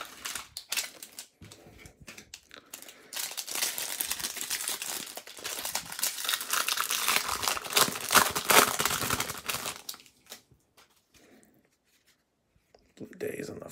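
Crinkling and tearing of a foil wrapper as a 2019 Bowman Draft Jumbo baseball card pack is ripped open, close and rustling for several seconds before dropping off, with a little talk nearby.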